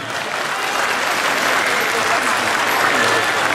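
A crowd applauds for a senator being introduced at an Asian festival in Bussy-Saint-Georges, a dense, sustained wash of clapping that stays loud and even throughout.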